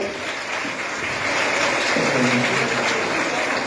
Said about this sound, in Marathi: आपण जोरदार टाळ्यांच्या गजरामध्ये दादांचं स्वागत करावं